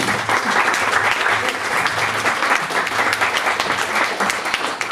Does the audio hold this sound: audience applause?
yes